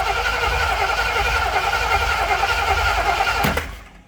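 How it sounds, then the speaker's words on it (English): A car engine cranks with a loud, steady, rhythmic churn for about three and a half seconds, then cuts off abruptly with a sharp click. "And now I should crank."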